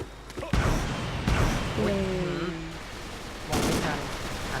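Gunfire in the blocky first-person shooter Ace of Spades comes in a few sharp bursts over game noise, with a brief tonal in-game effect between shots.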